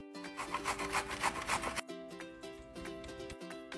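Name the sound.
grating zucchini on the large side of a box grater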